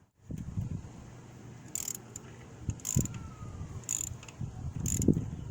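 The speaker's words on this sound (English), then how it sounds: "I get my ratchet." Ratchet wrench clicking in short, quiet bursts while tightening a spark plug, with soft mechanical handling noises between the clicks.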